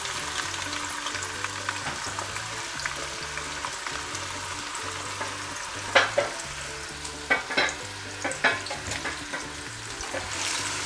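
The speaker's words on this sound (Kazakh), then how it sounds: "Майымыз қыза бастағанда пиязымызды салып, ақырындап сарғайғанша қуырамыз." Onions fry in hot oil in a cauldron with a steady, close sizzle, joined midway by several sharp clatters of stirring.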